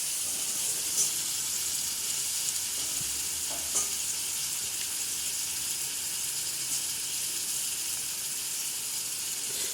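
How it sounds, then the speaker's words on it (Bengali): Grated capsicum, onion and tomato with ginger garlic paste frying in oil for a gravy, giving a steady moderate sizzle with faint crackles and occasional stirring sounds, no talking. "এবার আমি গ্রেভির জন্যে ক্যাপসিকাম, পেঁয়াজ আর টমেটো যেটা গ্রেট করেছিলাম সেইটা ভাজছি তেলেতে"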